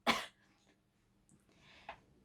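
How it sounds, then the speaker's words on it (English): One sharp, breathy cough up close, followed by a soft rustle and a faint exhale. "Let me cough."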